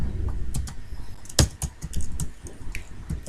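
Code is typed on a computer keyboard for a visual programming assignment, with close, crisp key taps in quick irregular runs and one louder stroke partway through.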